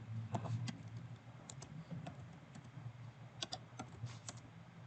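Keys clack on a computer keyboard as a short command is typed in a JavaScript Node.js session, quick irregular taps close by with short pauses, no talk.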